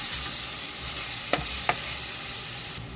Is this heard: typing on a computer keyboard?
no